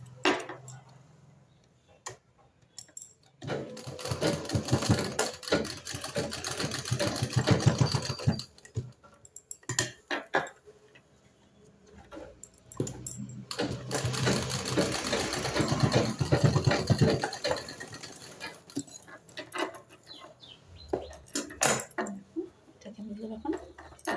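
A sewing machine stitches a latkhan design diagonally across folded fabric, its motor humming and ticking in two long runs with short stops and quieter handling noises between.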